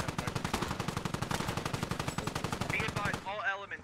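Sustained rapid automatic gunfire rattles loud and close for several seconds in the military shooter game Squad, then cuts off, leaving a radio voice in the background.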